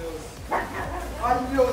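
A small dog barks and yips excitedly indoors at a door, a few quick high barks mixed with whimpering, close by, while people talk over it.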